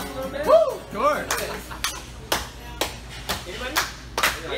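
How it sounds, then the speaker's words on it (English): A crowd at a San Diego singing-telegram performance claps along in a steady rhythm of sharp claps, heard near and moderately loud, with whoops and voices over the opening moments. "Hey, y'all want to help me out and clap a little bit?"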